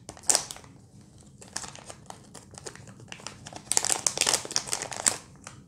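Plastic packaging for a Raspberry Pi Pico kit part crinkling and rustling as it is opened, close up, in irregular bursts that grow busier toward the end.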